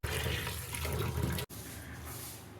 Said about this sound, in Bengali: মাছটা বেছে ভালো করে ধুয়ে নেব।